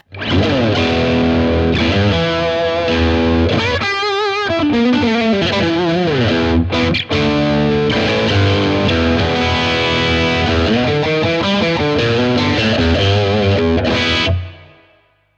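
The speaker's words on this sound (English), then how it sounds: "this is with the gain all the way up on that boosted channel" Heavily distorted electric guitar through a Blackstar TV-10 amp, boosted channel at full gain, riffing with thick sustained chords and some single-note runs, loud and continuous for about fourteen seconds, then cutting off.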